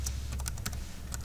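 A short, close run of computer keyboard typing as a password is entered, light clicky keystrokes in a quick uneven rhythm with no voices.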